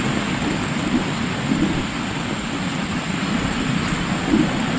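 Heavy rain pours steadily over a flooded village in Darpally mandal, a dense, even hiss with low rumbling, continuous and close with no voices.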